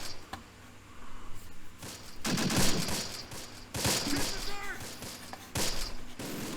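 Distant German bombardment in a Close Combat wartime battle, with scattered thuds and bursts of explosions and gunfire spread across the scene, some louder blasts standing out amid a rumbling background.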